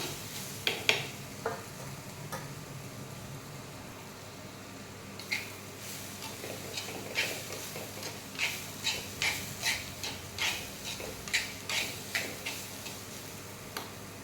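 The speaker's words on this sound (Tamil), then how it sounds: "நல்லா கிண்டிட்டு கொஞ்சமாக தேங்காய் பூ போட்டுட்டு நம்ம இறக்கிடலாம்." Beetroot stir-fry with grated coconut is stirred in a pan, making a quiet run of evenly spaced spatula taps and scrapes over a faint sizzle. The strokes grow more regular toward the end, and there is no speech.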